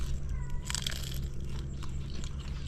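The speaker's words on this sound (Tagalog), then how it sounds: "Rinig na rinig yung crunch. Malutong pa dyan." Crisp crunching bites into fried mulberry leaves, a few sharp crackles close to the mic, over a steady low hum with no talking.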